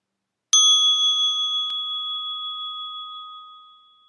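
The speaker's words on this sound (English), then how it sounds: "opening your eyes to the sound of the bell" A meditation bell is struck once, a clear, bright metallic tone that rings out close and loud and then fades slowly over several seconds into silence.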